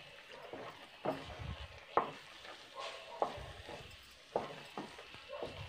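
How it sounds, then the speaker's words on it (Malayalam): Palm halva with added ghee being stirred in a pan, with a spoon scraping and knocking against the metal about once a second over a soft, thick bubbling, close and moderately loud, no voices. "ഇനി നന്നായിട്ട് ഇളക്കി കൊടുത്തോണ്ടേ ഇരിക്കണം."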